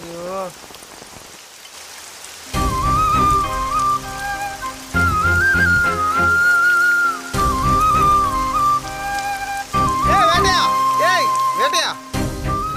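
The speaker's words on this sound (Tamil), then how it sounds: "ஐயோ என்னங்க இப்படி மழை பெய்யுது?" Heavy rain pours down in a steady, loud hiss, with people talking over it and a whistling tone running through parts of the scene.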